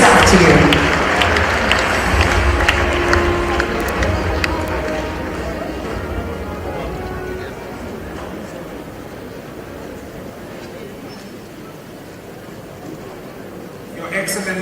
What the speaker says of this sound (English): Please let the applause reflect the fact that he is our keynote speaker this afternoon